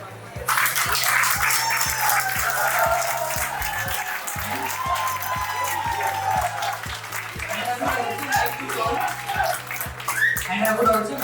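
A loud, sustained burst of audience applause and crowd noise fills a Teacher's Day celebration at Tathastu-ICS, with a steady thumping beat pulsing underneath throughout.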